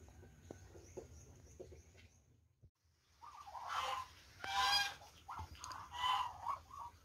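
Geese honk repeatedly at a Muscovy duck pen on a poultry farm, with bursts of loud, overlapping calls in the second half after a quieter stretch of low background noise.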